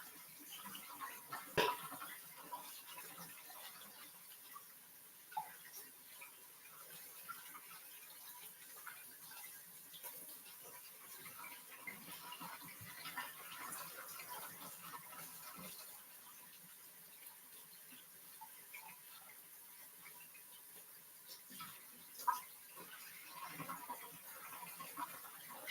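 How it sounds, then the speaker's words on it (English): Rice is rinsed under a running kitchen tap, a faint steady wash of flowing water with occasional soft splashes and clinks, no voices over it. "I just kind of rinse it until the water runs clear."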